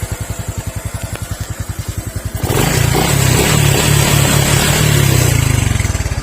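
Honda Wave 110 motorcycle with a modified aftermarket exhaust, first a steady loping idle pulse, then a loud sustained rev to a raw roar held for several seconds before easing slightly, close up with no talking.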